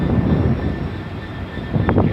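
An airplane flying overhead near a railway at Eastleigh produces a loud, continuous engine rumble and roar that holds steady, swelling slightly toward the end.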